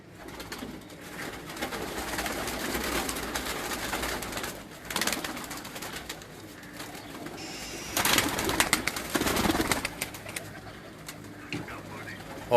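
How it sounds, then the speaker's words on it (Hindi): Chhapdar kamgar breed pigeons from a fancier's loft coo in low, rolling calls beneath ongoing talk, with louder bursts of flapping or handling noise partway through. "जो कबूतर आपको दिखाए जा रहे हैं ये उस्ताद मियाँ नज़ीर मरहूम आफललियानी उनके घर की जो छापदार कमगर ब्रीड है"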